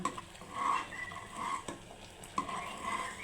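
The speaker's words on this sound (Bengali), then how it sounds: "একটু সিরকা দিয়ে তারপর একটু নাড়া দিয়ে নামিয়ে ফেলবো।" Mango jelly with vinegar being stirred in a cooking pot over heat, with soft scraping strokes and faint bubbling close at hand, rising and falling with each stir.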